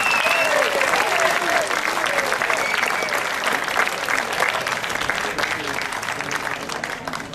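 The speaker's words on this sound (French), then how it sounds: "Je vous demande d'applaudir très fort Ludwig Wunsch." Sustained audience applause for pétanque precision-shooting player Ludwig Wunsch at a boules event in Canada, dense and steady clapping with a few crowd voices, holding strong throughout before easing slightly at the end.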